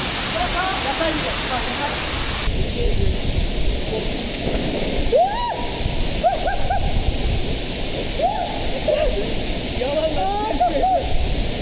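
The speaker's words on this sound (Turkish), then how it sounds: "Şimdi şelaleye geldik." A waterfall roars nearby in an outdoor swimming spot, a constant full wash of falling water with faint human voices and calls rising over it now and then.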